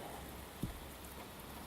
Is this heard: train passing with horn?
no